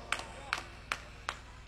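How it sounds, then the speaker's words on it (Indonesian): Sparse, isolated hand claps from an audience at a religious gathering, honoring two darbuka players; five sharp separate claps fall at even intervals over a low steady room hum, rather than full applause. "Tepuk tangan untuk beliau berdua."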